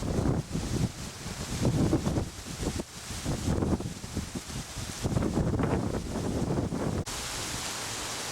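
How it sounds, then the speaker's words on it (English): Strong wind buffets the microphone in bad weather outdoors, a loud, continuous rushing roar with gusty surges and rumbling low end, no voices. "The weather is bad, it's very windy."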